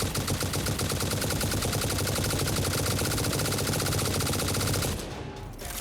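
Rapid automatic gunfire from a weapon in the video game Satisfactory, a dense, loud, continuous stream of shots lasting about five seconds before cutting to a quieter tail.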